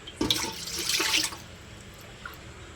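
Water poured into a cooking pot in a short splashing stream lasting about a second, close by, then a faint trickle against quiet room noise.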